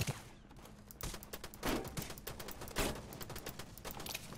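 Gunfire in the battle-royale game Rules of Survival, several sharp reports spaced across a few seconds, fairly quiet overall with a dense, busy background.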